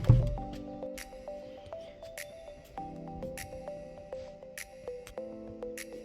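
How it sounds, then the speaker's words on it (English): Vegetables being washed by hand in water at a village home, with irregular wet squishing, splashing and dripping sounds close by and no talking. "Now I'm washing this vegetable."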